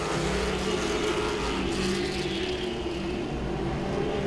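Late model stock cars race at Langley Speedway, a steady roar of several engines droning continuously at mid distance with no break in the noise.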